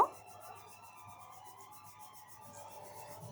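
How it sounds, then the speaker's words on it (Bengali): Ginger garlic masala paste stirred and fried in a pan, a soft steady scraping and rubbing close by with a faint sizzle under it, with no talking. "তো এভাবে নেড়েচেড়ে কিন্তু আমি মশলাটাকে কষিয়ে নিব"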